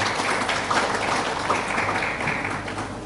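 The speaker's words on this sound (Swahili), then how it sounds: "Makofi kwa Mheshimiwa Rais tafadhali." A crowd applauds President Samia at a sports gathering, a steady, dense wash of clapping from many hands that holds at an even level throughout with no voices over it.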